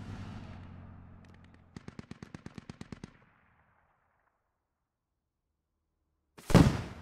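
Gunfire and an anti-tank rocket launch in the Squad military shooter game: a sustained low rumble, then a rapid burst of about ten sharp automatic shots, a silent pause, and finally a loud, close rocket blast.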